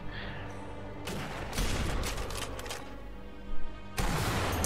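Gunfire in the video game Sniper Elite V2 comes as bursts of loud shots and a dull boom over a low, steady background rumble, with a few sharp cracks separated by quieter gaps and no talk.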